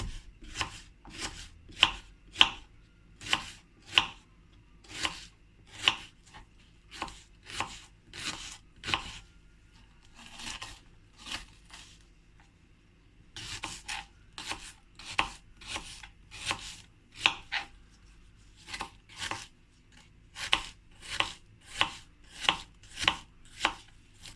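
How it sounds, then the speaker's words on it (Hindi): A kitchen knife chops an onion roughly on a cutting board for a cheese omelette, giving close, crisp rhythmic thuds in quick bursts, with a few brief pauses between runs of strokes. "देखिए रफली चॉप कर लेना है हमने इसको"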